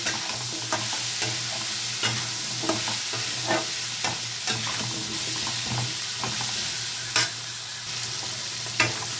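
Ground cumin and turmeric masala fries in oil in a pan, a steady close sizzle punctuated by regular scraping clicks of a spatula stirring, no talking.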